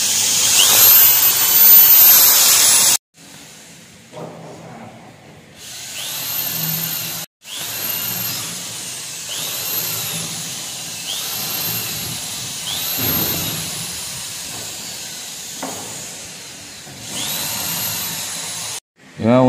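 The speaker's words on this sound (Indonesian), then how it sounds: "kita lubangin dulu buat jalan bautnya ya" Power drill boring pilot holes for door hinge screws, whining in several separate bursts with rising and falling pitch, close and loud, with quiet handling gaps between runs.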